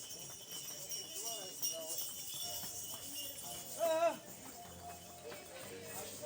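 Horses and mules clip-clop along a mountain track in Kashmir, a steady hoof rhythm at moderate distance mixed with outdoor ambience, while people talk over it.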